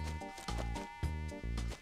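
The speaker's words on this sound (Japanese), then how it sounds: "セミの鳴き声がめっちゃ気持ちいいな" Cicadas drone in the Animal Crossing e+ game world, a steady buzzing chorus that swells and dips in short pulses, moderately loud with no voices.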